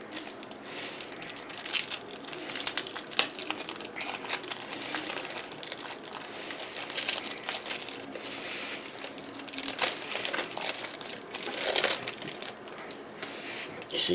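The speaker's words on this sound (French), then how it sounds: "Je vais ouvrir l'autre paquet." A card game pack is opened by hand, its plastic wrapper crinkling and crackling in a dense, continuous rustle, close and fairly loud throughout.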